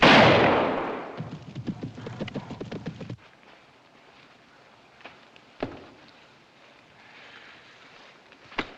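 A gunshot in a romantic adventure film hunting scene opens with a loud blast that fades away, then gives way to softer rhythmic knocking, quiet stretches and another sharp crack later on.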